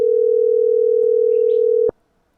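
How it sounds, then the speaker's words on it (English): A telephone call tone sounds as one loud, steady, unbroken tone that lasts about two seconds, then stops abruptly. "I hear a ringing."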